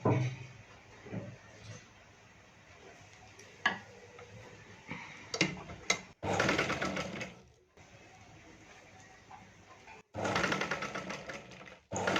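A sewing machine stitches a blouse in bursts: short runs of rapid mechanical whirring and ticking separated by pauses, with handling clicks and faint background sounds between them.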